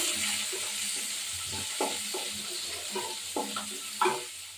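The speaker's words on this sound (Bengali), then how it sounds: "তারপর আলুটা ভাজবো এবার পেঁয়াজটা ভাজবো" Chopped onion and potato frying in a pan in a home kitchen, a steady hiss with intermittent clatters and scrapes of stirring, close and moderately loud, without speech.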